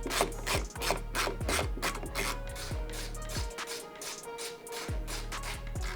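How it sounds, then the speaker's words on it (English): Bolts being hand tightened on a Crazy Cart battery box, a run of close, repeated scraping and rasping turns with short pauses, no talking. "I'm just going to hand tighten these."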